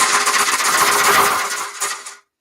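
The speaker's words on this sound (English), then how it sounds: "I have this drum to do that" A hand drum struck in a steady run of quick, dense beats during an energy-clearing session in a healing meditation, loud and close, with no talk, fading out at the end.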